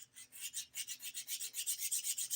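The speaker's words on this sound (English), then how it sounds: "it's a lot less work to file because it files so nice." Close, rhythmic rasping of a nail file across polygel nails, about fourteen quick back-and-forth strokes in steady succession, with no voices.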